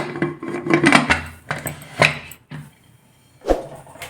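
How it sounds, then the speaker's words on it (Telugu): A few metallic clanks and knocks as a lid is set onto a pressure cooker, with short pauses between the bumps. "మూత పెట్టుకునేసి"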